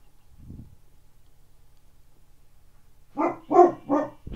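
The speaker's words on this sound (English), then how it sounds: "Stop barking." Wolf dog barking in the Minecraft video game: one soft low bark near the start, then a burst of three or four louder, closer game barks toward the end.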